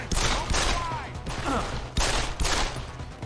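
Gunfire crackles in Deus Ex: Human Revolution, in a few sharp, loud volleys of rapid shots separated by short gaps, with an electrical whine and game effects between the bursts.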